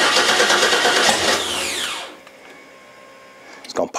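Car engine with freshly swapped cylinder heads and camshaft, running with no exhaust fitted: a loud rough roar that winds down and cuts off, leaving near silence, then a couple of sharp knocks at the end.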